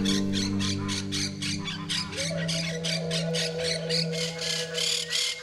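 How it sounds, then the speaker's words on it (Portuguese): Flock of monk parakeets in a colony in the Pantanal, loud harsh squawks repeating rapidly and continuously, several birds calling over one another close by. "E logo vimos uma infinidade de pássaros."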